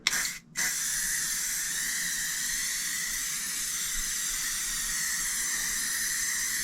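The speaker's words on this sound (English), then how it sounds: "my hairspray of choice is L'Oreal of Paris Alnet" A can of L'Oreal Elnett hairspray sprays in a long, steady, close hiss after a brief initial puff and a short pause.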